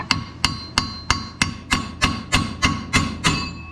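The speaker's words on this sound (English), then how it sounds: "Now we just gotta get this spindle off of here." A hammer strikes repeatedly while a stock spindle is knocked loose from a GMC Sonoma pickup: about ten sharp metallic blows at a steady, even rhythm, close and loud, with no talking.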